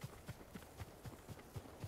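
Horse hooves from the video game Ghost of Tsushima beat out a steady, rapid clip-clop, about four strikes per second, moderately close and fairly quiet, with no talk over them.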